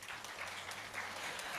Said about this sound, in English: A big round of applause for that mesmerizing percussion.